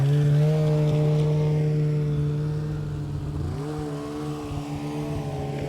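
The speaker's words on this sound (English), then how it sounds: "here we've got some sleds coming up the road" A pair of new, brightly colored snowmobiles drive up a road, their engines a loud steady drone with whining harmonics that shift in pitch as they pass close by; no one talks.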